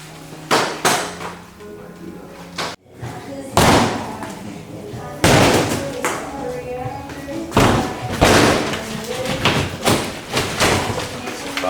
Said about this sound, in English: We're gonna knock that sheet right off for it on the wall.